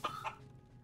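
A chicken in the video game Risen gives a couple of quick, faint clucks close together, short and sharp, with no voices.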